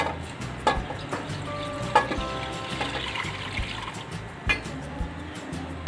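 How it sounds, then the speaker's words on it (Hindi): Chicken stock pours into a pot for Peshawari corn soup, a soft trickling splash broken by a few clinks and knocks of the pot, faint and close, with no voice. "उसके लिए मैं सबसे पहले डालूँगी इसमें यखनी"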